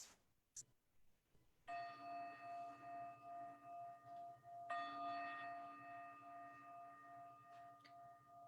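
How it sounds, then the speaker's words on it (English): A meditation bell rings twice to open a guided practice. The first strike rings out with a bright, sustained tone, and a second strike follows about three seconds later. Each strike fades slowly in a quiet room, with no talk. "In a moment, the bell will sound,"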